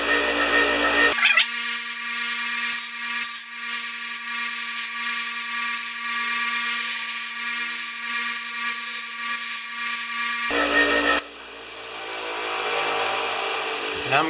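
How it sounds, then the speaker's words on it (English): Bench grinder grinding a metal pump part: a loud, steady high whine with strong tonal hum runs for about ten seconds alone, then the wheel cuts off and spins down. "So let's just go over to the bench grinder."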